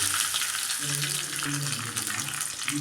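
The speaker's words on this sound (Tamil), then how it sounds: "இந்த பக்கம் ஒரு கரண்டி வச்சு ஆயில் ஊற்றி கடுகுளுத்த பருப்பு போட்டுக்கலாம்" Hot oil crackles and sizzles steadily as mustard seeds and urad dal pop in it, a dense spatter close by.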